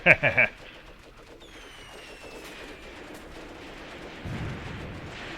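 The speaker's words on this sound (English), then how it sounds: "Yep, that's our mortars." Mortar fire from Graviteam Tactics opens with three quick, sharp booms close together, followed by a low battlefield rumble with thin distant whistles and a heavier thud near the end.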